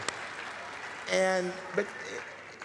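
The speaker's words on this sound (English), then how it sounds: "Don't clap for me, clap for my clap wife." Audience applause at the OurCrowd Summit 2020, a steady wash of clapping running beneath a voice as he speaks.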